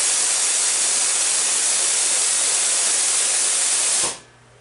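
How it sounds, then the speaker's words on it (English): An air compressor's automatic drain lets out a loud, steady blast of hissing air for about four seconds and then cuts off sharply, leaving only faint room tone. "That is the automatic drain on my air compressor."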